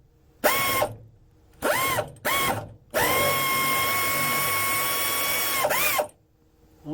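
A power tool loosens a bolt in three short whirring bursts, then one long steady spin that winds down at the end, loud and close, with ratcheting mechanical texture and no speech.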